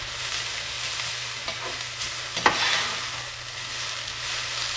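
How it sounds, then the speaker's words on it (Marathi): Golden-brown onion and long-sliced tomato frying in a pan as a vegetable topping for a veg pizza, a steady close sizzle with soft stirring scrapes and one sharper clatter midway, no voices present. "कांदा थोडा गोल्डन ब्राउन झाल्यानंतर त्याच्यामध्ये लांब चिरलेला टोमॅटो आणि परत ते 2 मिनिटं थोडे फ्राय करून घेऊया"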